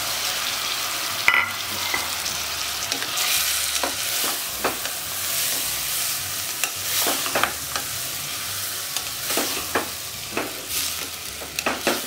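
Soaked basmati rice and chana fried together with masala in a pan for chana pulao, a steady sizzle broken by repeated scraping stir strokes, close and moderately loud, with no talking.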